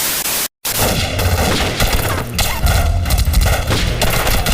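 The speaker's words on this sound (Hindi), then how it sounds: "ये वीएफएक्स इतना सस्ता है कि गोलियां भी बिल्कुल सस्ती लग रही हैं।" Cheap-sounding synthetic gunfire from a low-budget Bhojpuri action film scene, a dense continuous rattle of shots with a brief dropout near the start, loud and busy throughout.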